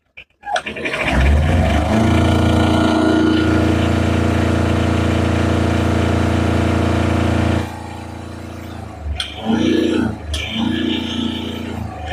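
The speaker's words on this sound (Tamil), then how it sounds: "ரேஸ் பண்ணி காட்டுறேன் இன்ஜின் கண்டிஷன் பார்த்துக்கோங்க" A used Tata Ace diesel engine cranks and catches, then revs hard and holds a loud, rough roar before dropping back to idle with a couple of short throttle blips.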